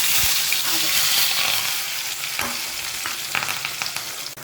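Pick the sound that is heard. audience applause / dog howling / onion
onion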